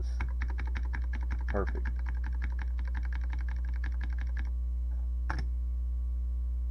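Rapid keystrokes clatter on the repaired keyboard of a Tandy Model 200 laptop, a quick even run of crisp clicks that pauses, then one last isolated press, with a brief spoken word in between.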